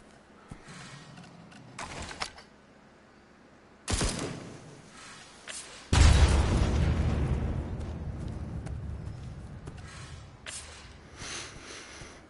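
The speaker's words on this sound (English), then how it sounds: "looks like I'm gonna have to shoot this" Gunshot and explosion in The Walking Dead Onslaught video game: a few sharp shots, then a heavy booming blast with a long rumbling decay, close and loud.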